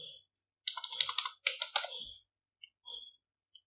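Quick keystrokes on a computer keyboard come in close, quiet bursts of clicking with short pauses between runs, and no one speaks.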